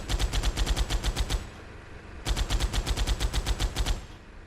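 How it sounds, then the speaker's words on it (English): Minigun turrets on a battleship in the video game ARK fire in two rapid, evenly pulsed bursts of a bit under two seconds each, loud and close, with a short pause between them. "You'll notice here I have these minigun turrets."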